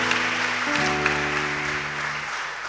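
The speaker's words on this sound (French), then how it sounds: "Acclamons encore le roi des rois une fois" A church congregation claps together in a dense, continuous wash of applause over sustained musical tones, steady at first and then easing slightly.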